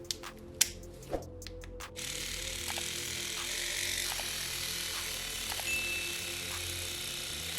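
A steady, buzzing mechanical hum runs continuously after a few sharp clicks and knocks at the start, a DSPIAE ES-A reciprocating sander whirring close by.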